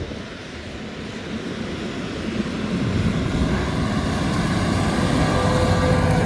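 A Fendt and a JCB Fastrac tractor accelerate past, a deep, rising engine drone that swells steadily louder and stays loud to the end, with no talk over it.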